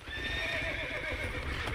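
Horses in the video game Red Dead Redemption neigh and whinny over steady clip-clop hoofbeats, a continuous close layer of galloping with a drawn-out whinny in the middle, no talk.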